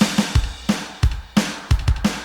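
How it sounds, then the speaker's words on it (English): Short drum pattern for a rock song intro: kick and snare hits repeat in a steady rhythm with cymbal wash, close and moderately loud, no talk. "The drums in the intro will go something like..."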